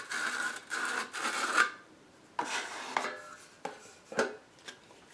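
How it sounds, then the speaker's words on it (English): Steel trowel spreading tile adhesive across a toe kick, heard as several close, separate scraping strokes with short pauses between them and no talking. "And you just take your trowel like this."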